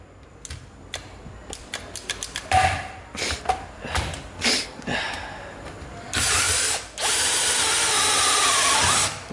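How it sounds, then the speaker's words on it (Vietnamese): A cordless drill with a 10 mm steel bit bores into wood in short, loud whirring bursts that repeat rhythmically, then runs in two longer sustained drives near the end. "Bây giờ mình sẽ khoan thử cho bạn xem nè."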